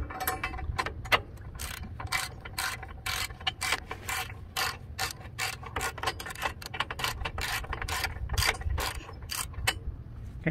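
A hand ratchet clicks steadily while tightening bolts on Metalcloak rear differential armor, a dense run of sharp, close pawl clicks in quick bursts that continues throughout with no voices.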